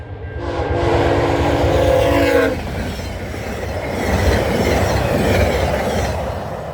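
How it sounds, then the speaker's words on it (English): A VIA passenger train passes at East Townline Road in Newtonville, Ontario. Its loud horn sounds briefly at the start, then a steady, close rumble and clatter of wheels and cars roll by. "I was trying to chill and this train came out of fucking nowhere"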